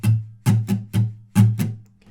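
Acoustic guitar strummed slowly in a down, down, up pattern for a song, six distinct strums in an uneven lilting rhythm, close and clear with no voice.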